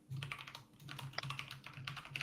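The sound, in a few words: loud clattering of a computer keyboard while typing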